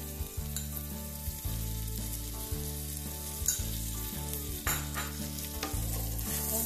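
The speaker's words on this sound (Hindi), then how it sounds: "और अच्छी तरह से इसको हम चलाएंगे" A spinach and rice dish frying while it is stirred, with steady sizzling and regular scraping strokes against the pan over a low background hum. No voices.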